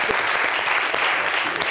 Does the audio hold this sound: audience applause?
yes